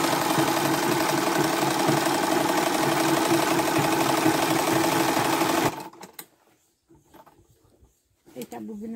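A sewing machine runs steadily for about six seconds, double-stitching the seams of a rug made from old denim jeans, then stops, leaving near silence with a few faint handling sounds.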